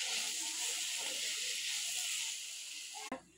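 Snake gourd pieces hit a hot pan of dal tempered with turmeric and kitchen king masala, raising a loud, steady broadband hiss that cuts off abruptly near the end with a short knock.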